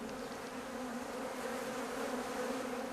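Honeybees at an opened hive on a Victorian-style farm make a steady, dense buzzing drone, close and continuous, with no voices.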